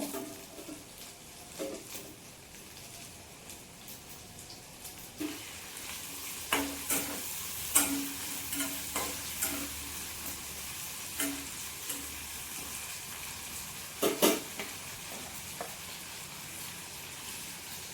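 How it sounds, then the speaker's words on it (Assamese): Soft sizzle of tomatoes frying in oil with scattered scraping and stirring clicks, moderately quiet, continuous with no voices. "এইখিনি অকণমান সময় মই ভাজিব লাগিব।"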